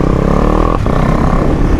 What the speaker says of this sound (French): ils t'entendent quand même avec ta petite moto, hein, avec la petite ligne